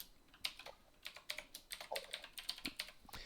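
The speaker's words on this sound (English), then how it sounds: "this is a different keyboard. This is one of Farns's keyboards." Rapid, uneven clicking of keys on a mechanical computer keyboard, close and fairly quiet, with bursts of keystrokes and brief pauses and no voices.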